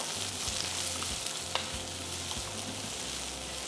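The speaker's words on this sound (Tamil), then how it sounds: "இந்த பாவக்காய் கொஞ்சம் நல்லா வதங்கி வர அளவுக்கு இதை கொஞ்சம் நம்ம ரெடி பண்ணிடலாம்" Bitter gourd sautéing in a pan with rock salt gives off a constant, dense sizzle and hiss, with a low hum running underneath and an occasional faint clink.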